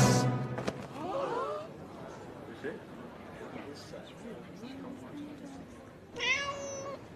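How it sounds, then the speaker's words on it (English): Two cats trapped inside a wall meow repeatedly, their cries coming in several separate bursts that sound close but muffled. A louder meow at the start and another near the end stand out over a faint, murmuring background. "I got two cats stuck inside this wall."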